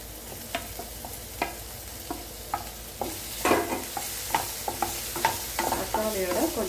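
Onion and tomato sautéing in oil and butter in a pan, a steady soft sizzle broken by repeated scraping stir strokes that grow busier and louder toward the end, with no voices.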